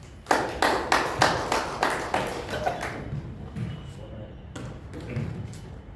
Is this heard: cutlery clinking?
no